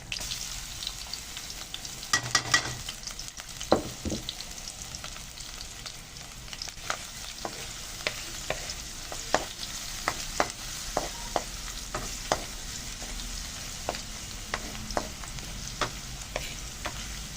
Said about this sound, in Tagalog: gisa po natin yan. Saligan na po natin itong garlic.